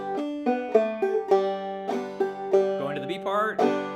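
Clawhammer banjo plays the A part of the fiddle tune "Waterbound" alone, a bright, close run of plucked notes with a steady bouncing rhythm and ringing drone strings.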